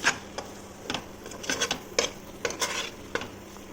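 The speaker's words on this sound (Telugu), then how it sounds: "మనం 4-5 స్పూన్స్ ఆయిల్ వేసుకొని ఆనియన్, జింజర్, గార్లిక్ పేస్ట్ చేసుకొని ఇలా వేయించుకోవాలి" Onion, ginger and garlic paste frying in a few spoons of oil for chicken curry, a soft background sizzle broken by scattered clinks and scrapes of a spoon stirring the pan, no speech.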